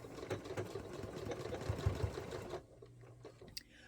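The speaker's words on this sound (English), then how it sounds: "So we're going to get these sewn on." A sewing machine stitches fish-print fabric quilt squares, running steadily at close range for about two and a half seconds, then stopping and leaving a quieter hum with a faint click.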